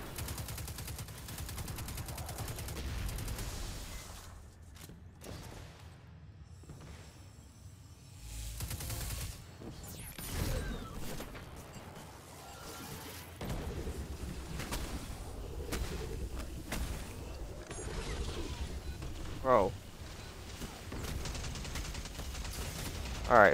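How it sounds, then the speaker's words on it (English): Gunfire in the video game Seraph's Shield, with bursts of shots and explosive bangs that rise and fall in loudness over a steady game background, dropping off briefly midway. "They're shooting me, but they can't kill me."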